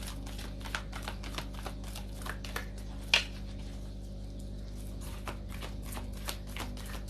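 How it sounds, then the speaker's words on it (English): Tarot cards being shuffled in a quiet room, a faint, repeated soft riffle and tap pattern over a steady low hum, with one sharper click midway and no talk. "the shuffling sound is giving you ASMR"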